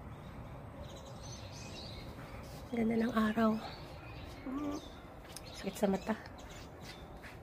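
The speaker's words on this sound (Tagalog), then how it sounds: "Daming ibon. Nagliliparan." Many birds flying overhead give harsh squawking calls in a few short bursts over steady outdoor noise, with someone speaking nearby.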